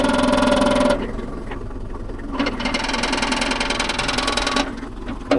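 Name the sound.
Mahindra Yuvo Tech Plus 585 DI tractor with PTO running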